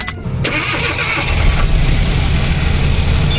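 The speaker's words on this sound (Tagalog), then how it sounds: "At ngayon, i-try nating paandarin ang makina" A Suzuki DA64W K6A turbo car engine cranks briefly, then catches and settles into a steady, loud running rumble close by.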